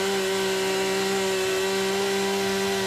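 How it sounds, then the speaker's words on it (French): A chainsaw runs at a high, steady whine while cutting wood during a disaster rescue operation in the Philippines, loud and close, with no voices. "Mais la tronçonneuse ne suffit pas."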